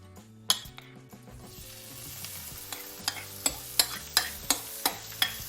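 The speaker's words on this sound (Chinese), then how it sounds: "锅里留上少量食用油，咱们将刚刚准备好的玉米粒铺在上面" Corn kernels sizzle in a thin layer of hot cooking oil in a wok, a steady frying hiss under sharp scraping and clinking strikes of a utensil against the pan, repeating in a quick, regular rhythm.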